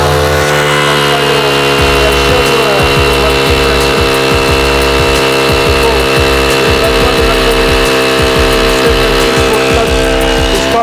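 A Honda GX50 petrol engine on an agricultural sprayer machine roars loudly and continuously up close, its steady high revving tone holding under throttle with rapid mechanical flutter throughout.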